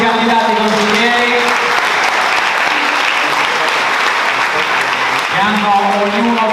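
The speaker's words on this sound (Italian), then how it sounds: "Facciamo un applauso anche per tutti i candidati consiglieri" A crowd at a political campaign event in Porto Viro applauds the council candidates, steady dense clapping carried under a voice that keeps speaking over it, tonal voice traces appearing near the start and again at the end.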